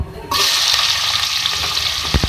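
Onions dropped into hot oil for an egg and potato curry burst into a sudden loud sizzle that carries on as a thick, steady hiss, close to the pan, with a couple of light knocks near the end.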